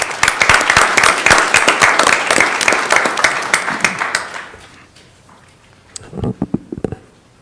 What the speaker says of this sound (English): I just give them a round of applause.